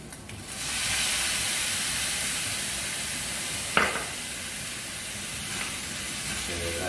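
Cauliflower egg fried rice sizzles steadily in a hot pan as tamari goes in and it is stirred, with a sharp clatter of the utensil midway and no talking.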